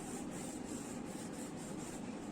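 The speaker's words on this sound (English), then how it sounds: "Burnish this really good." Glued paper is burnished onto a shabby chic mini album with a steady, close rubbing and scraping, faint and continuous with a slight back-and-forth pulse.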